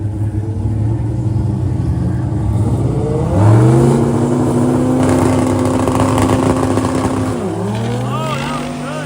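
A turbocharged drag racing car launches off the trans brake and makes a pass down the drag strip, its loud engine roar rising in a long sustained pull and shifting near the end, with people talking over it.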